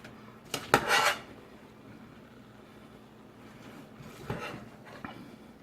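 Spoon stirring shredded cabbage in a pot for bigos, a sharp scraping clatter of metal against the pot early on, then quiet, then a couple more softer scrapes.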